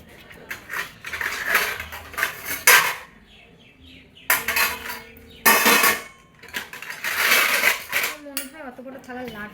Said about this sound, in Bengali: এবার আমি ফলগুলোকে একটু ভালো করে ধুয়ে নেবো